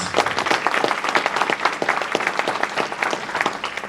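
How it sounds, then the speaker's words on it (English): A seated audience at a regional business breakfast hosted by Concord Foods applauds in a dense, even burst of many hands clapping, fairly close and loud, holding steady for a few seconds. "Let's have a round of applause for our host, Concord Foods."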